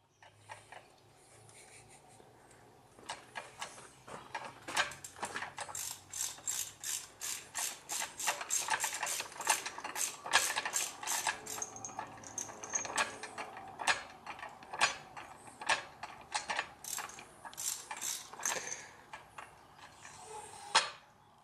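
Pipe expander tool working on the exhaust pipe of a BMW 128i during a muffler delete, a rapid series of sharp metallic ratcheting clicks that start quietly and grow louder and denser, close and alone.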